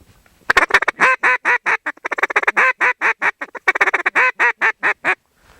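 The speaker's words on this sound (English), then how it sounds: "Or you can mix a chuckle in there." Duck call working a quick feeding chuckle mixed with quacks, a dense, uneven rattle of short notes and longer quacks packed together, close and loud, with no talking.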